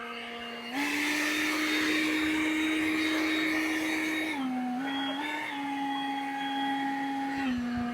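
A leaf blower spins up and runs steadily at close range, its loud whine dipping and shifting pitch a few times as the throttle changes, with no talking.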